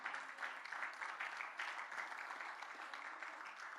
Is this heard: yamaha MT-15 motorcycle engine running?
no